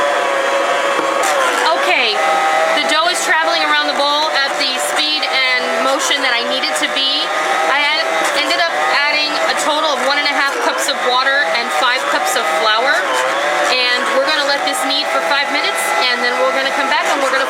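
A Bosch stand mixer kneads sub roll dough with a dough hook, its motor whirring steadily underneath continuous talking.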